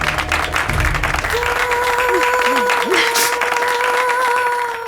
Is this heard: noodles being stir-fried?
no